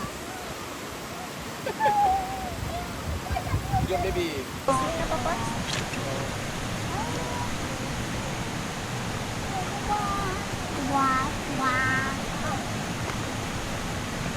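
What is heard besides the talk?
waterfall rushing water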